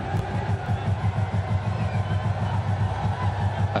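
Dense stadium crowd at an India versus Pakistan Asia Cup T20 cricket final, a steady loud roar of massed voices and cheering with a rhythmic pulsing chant or clapping beneath, continuous throughout.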